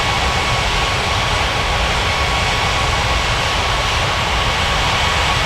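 Steady, loud roar of airliner jet engines at a busy airport in an air traffic control game, a continuous broadband rumble that holds without a break and has no voices over it.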